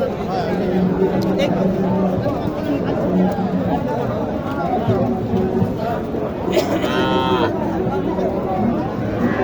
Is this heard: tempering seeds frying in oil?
no